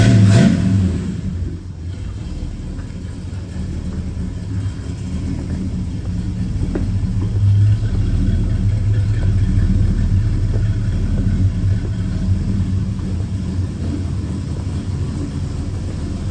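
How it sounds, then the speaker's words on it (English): A 1970 Ford Torino GT with a 429 engine idles with a steady low rumble, close and fairly loud, holding an even tone throughout. "Car runs good. It's super quiet. It sounds great."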